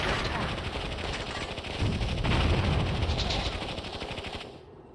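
Sustained machine gun fire from units in the retro real-time strategy game Warzone 2100, a loud continuous rattle lasting several seconds before cutting off abruptly.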